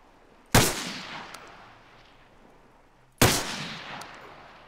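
Two loud, sharp gunshots roughly three seconds apart in the ARMA 3 military shooter game, each with a decaying echo tail, with no talking.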